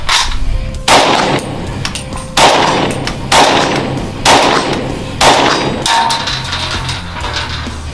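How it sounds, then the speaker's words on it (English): A German World War II machine gun fires in short, loud bursts, about six sharp blasts spaced roughly a second apart, each followed by a brief ringing decay. "It's a machine gun."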